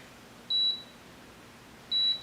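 Two short, high electronic beeps from a Chefwave milk maker, about a second and a half apart, over a quiet background.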